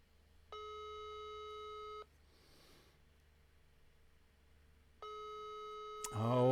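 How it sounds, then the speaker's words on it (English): Phone ringback tone on an outgoing call: two long electronic ring bursts separated by a few seconds of quiet line hiss, clear and steady, ending as a short burst of noise begins. "it's ringing."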